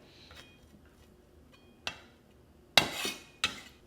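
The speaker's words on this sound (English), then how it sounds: "I'm actually going to butterfly those and just cut them in half" A kitchen knife cuts big raw prawns in half on a board, giving three sharp, separate knocks spaced about a second apart, close and clear against a quiet room.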